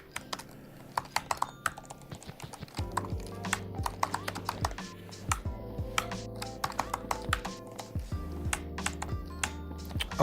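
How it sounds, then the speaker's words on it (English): Fingers type an address on a computer keyboard in a burst of quick, close clicks and clacks, irregular in rhythm with a few heavier key strikes, over a low steady room hum. "Always harder to type when people are watching you."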